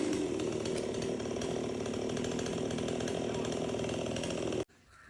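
A chainsaw cuts down a leaning tree on a farm, its engine roaring loud and steady for several seconds before abruptly cutting out, leaving quieter outdoor background.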